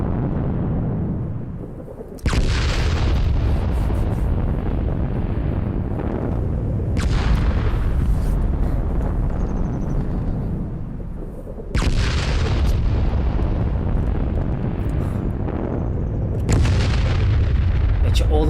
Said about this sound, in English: So I can just stay up here and watch the explosions occur from below me.